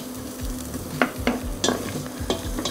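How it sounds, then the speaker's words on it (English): Sausage meat and onions fry together in a pan, a steady sizzle broken by several sharp scrapes and clacks of a utensil stirring, close and fairly loud with no voices. "the sausage meat has already been cooking, so we're going to carry on cooking in that pan"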